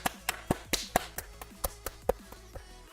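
One person clapping hands about a dozen times at an uneven pace, sharp close slaps with short gaps between them and no talk.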